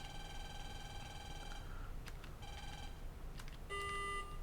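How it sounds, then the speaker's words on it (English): Electronic beeps from the Mega Man Battle Network 2 video game: a short series of tonal bleeps in a broken rhythm, quiet against a low background hiss, with no talk. "Beep."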